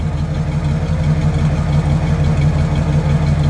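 A 1967 Ford Galaxie 500 convertible with a 428 cubic inch V8 idles close by, a steady, loud low rumble with an even pulsing beat and no revving or talk.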